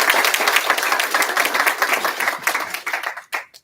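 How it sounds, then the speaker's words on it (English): Dense audience applause at a town hall meeting for Carmel City Council candidates, greeting the board president; sustained clapping from a crowd that thins out and stops near the end, with a last few claps. "Please give her a round of applause."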